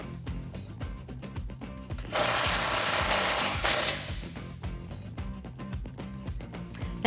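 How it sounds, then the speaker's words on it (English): A ratchet fitted with a 9/16 socket clicks in a steady rhythm as it drives a self-tapping screw during a suspension lift install on a 2015-2019 Ford F150, with a louder grinding burst partway through. "grab your 9/16 socket and tighten it down"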